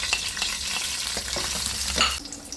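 Ginger sautéing in a pan for salmon sinigang with kamias, a steady close sizzle of frying under light stirring scrapes, with no talking.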